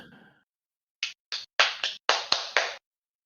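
Seven sharp hand claps, close and crisp, in an uneven rhythm after a brief moment of quiet.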